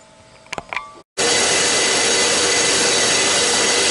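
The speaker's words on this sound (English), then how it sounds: "I don't have any other really effective tool to do this than this cutoff wheel." An abrasive cutoff wheel bites into metal tubing for a lawn mower frame, with a few light taps first, then a brief silence before a loud, continuous grinding screech that carries on to the end.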